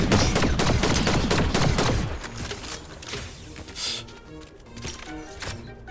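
Rapid, dense gunfire rattles in an online shooter video game for the first couple of seconds, then thins to scattered shots and mechanical clicks amid faint game ambience.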